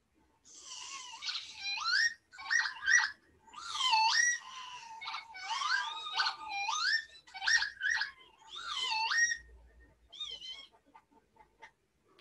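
A northern lapwing, or peewit, gives a series of wheezy, sliding whistled calls in quick repeated phrases, clear and fairly close over a quiet background, ending with a few softer notes.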